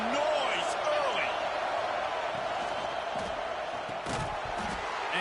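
Stadium crowd roars steadily throughout a college football video game matchup between Tennessee and Texas A&M, a loud continuous wash of cheering with brief louder swells, while commentary talk runs over it.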